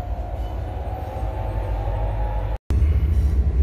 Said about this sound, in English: Now we got a train going to Memphis.